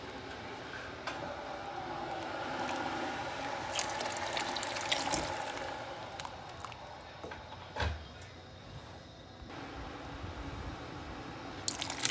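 Pea soup is stirred in a pot with soft, wet squishing and sloshing, a spoon knocking now and then, steady and close but quiet, with no voices.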